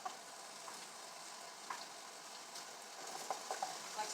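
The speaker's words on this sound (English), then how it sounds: "I'm going to just go ahead and put my onions in there, start letting them fry" Onions frying over medium-high heat in a pan with oil, giving a steady close sizzle with a few faint pops and stirring scrapes and no speech.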